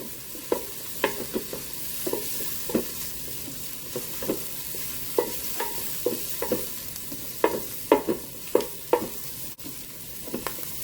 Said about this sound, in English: We're going to stir that around